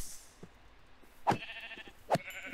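Two short sheep bleats from Minecraft, each a brief nasal cry spaced under a second apart, set against a quiet game background with no talking.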